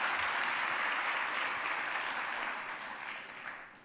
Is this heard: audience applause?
yes